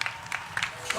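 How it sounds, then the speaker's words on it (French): A church congregation claps in praise of the Lord during a Mass, a few loose, scattered claps heard quietly over a short moment. "on acclame encore très fortement le Seigneur"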